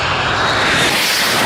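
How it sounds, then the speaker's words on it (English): A broadband, roaring aircraft engine drone from a cargo airplane strains steadily on the runway as it struggles to take off, loud and continuous throughout. "this Aerocirce has almost run off the runway and can hardly take off"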